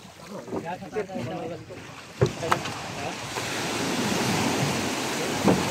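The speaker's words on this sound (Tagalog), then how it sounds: "Oh, medyo malakas ang alon ah." Strong waves wash and surge against a boat at sea off Calintaan under gusty wind buffeting the microphone, with a few sharp knocks and a voice calling early on.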